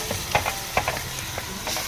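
Gravy sizzles in a pan on the stove while a spoon stirs and scrapes it, giving several short clattering strokes over a steady hiss.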